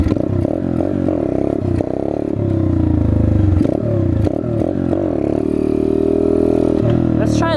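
Chinese dirt bike engine held in second gear through a wheelie, a steady loud droning roar with rising and falling revs and some clatter, close by, with a voice talking over parts of it.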